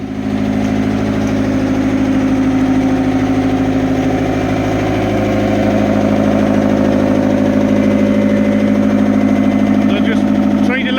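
An excavator engine runs steadily at close range, a loud continuous mechanical drone with a constant low throb holding level throughout, and a few faint clicks near the end.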